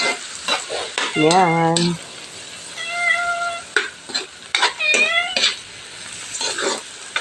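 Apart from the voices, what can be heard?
stirring ampalaya with egg in a pan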